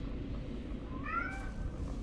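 A single drawn-out cat meow rises and falls, faint and short, over a steady low background hum.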